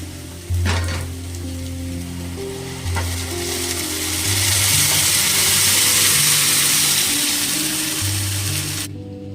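Ground onion paste frying in hot oil gives a loud, steady sizzle that builds as stirring clatters through it, with low droning tones beneath.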